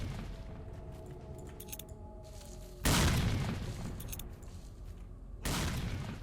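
In the STALKER: Shadow of Chernobyl video game, two loud explosion-like bursts of gunfire and grenade blasts break out, each followed by sustained rumbling noise, with quieter ambient game sound in between.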